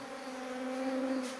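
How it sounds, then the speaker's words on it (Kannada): Honey bees from a colony taken out of a house hum around a hive box in a steady, close drone, alone without talk. "ಇಲ್ಲಿತ್ತು ಜೇನುನೊಣ, ಸ್ವಲ್ಪ ಅಲ್ಲಿದೆ."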